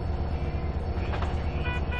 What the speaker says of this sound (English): oh, I'm driving a train